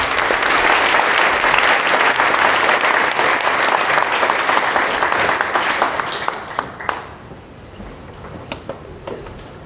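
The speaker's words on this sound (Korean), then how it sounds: "목사님 등단하실 때 박수로 축복합니다" A church congregation at a service honouring a retiring senior pastor breaks into loud, sustained applause as the pastor steps up to the stage; the clapping thins after about six seconds into a few scattered claps.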